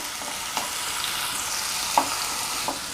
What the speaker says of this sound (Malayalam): നമുക്ക് വെളുത്തുള്ളി ചതച്ചത്, ഇഞ്ചി ചതച്ചത് ഇട്ടൊന്ന് മിക്സ് ചെയ്യാം.